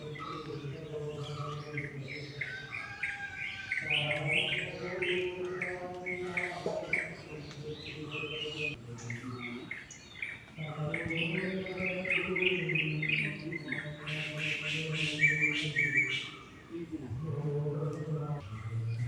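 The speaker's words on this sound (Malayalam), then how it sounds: "രാവിലെ ആ സമയത്ത് കിളികളുടെ സൗണ്ടിൻ്റെ കൂടെ തന്നെ ബാക്ക്ഗ്രൗണ്ടിൽ അമ്പലത്തിൽ നിന്നുള്ള പാട്ടൊക്കെ കേൾക്കുന്നുണ്ട്" Morning birds chirp and call through a steady layer of devotional music drifting from a nearby temple, the song running continuously underneath with a brief dip midway.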